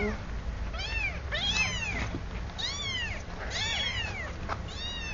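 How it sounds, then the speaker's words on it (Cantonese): Several close, clear kitten meows in quick succession, rising and falling in pitch, over a low background hum. "係呀，喵喵啊！"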